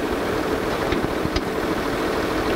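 An International Harvester tractor engine idles steadily in a 1970s farm setting, a constant mid-level drone with faint irregular knocks.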